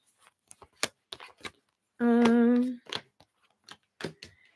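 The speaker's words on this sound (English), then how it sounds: "let me shuffle." A tarot card deck is shuffled by hand, giving a series of sharp, close card flicks and riffles spread across the moment, broken by one loud sustained tonal sound in the middle.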